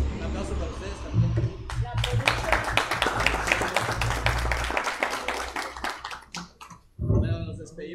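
Applause at a live jazz festival broadcast, a dense burst of hand clapping from a small audience that swells, thins out and fades, with a voice speaking over parts of it.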